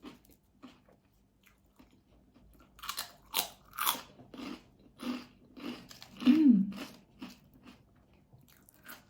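Swedish pork cracklings eaten with papaya salad, crunched in a series of loud close bites and chews spaced over several seconds in an otherwise quiet setting.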